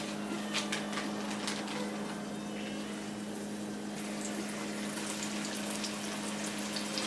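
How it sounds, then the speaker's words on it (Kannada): Maddur vada frying in hot oil over a medium flame gives a steady, even sizzle throughout, with a constant low hum behind it. "ಎಣ್ಣೆ ಕಾದಿದೆ ಈಗ ಒಂದೊಂದೇ ಹಾಕೋಣ"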